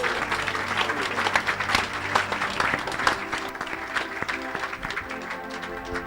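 Church congregation at a Pentecostal service clapping and cheering in praise of the Lord, a dense sustained wave of applause with scattered shouts throughout.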